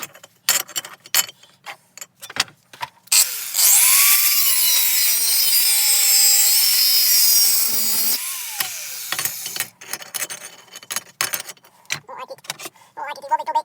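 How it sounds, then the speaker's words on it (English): An angle grinder cuts into a car air-conditioning compressor pump for about five seconds, a loud steady whine that rises and falls in pitch, set among clanks, knocks and handling noises from the metal part. "Time to get the grinder out."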